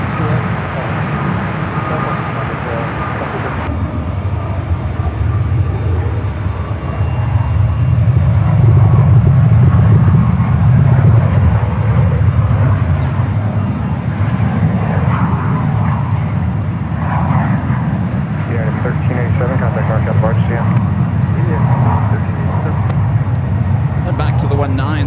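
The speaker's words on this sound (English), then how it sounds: "Pretty quick taxi for that A380 Super." Airbus A380 taxiing at San Francisco airport, a steady low jet-engine rumble that swells in the middle and holds throughout, with voices talking over it.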